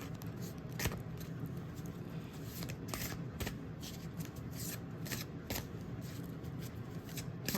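Soft, quiet riffling and flicking of gilded oracle cards being shuffled by hand, with scattered sharp clicks over a faint low background hum.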